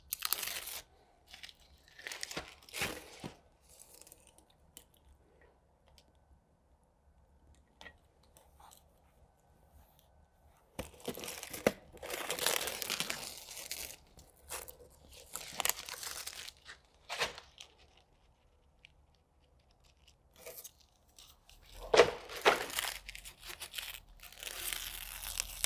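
A plastic vapor barrier sheet is handled, giving loud close crinkling and crackling bursts that come and go between quiet gaps.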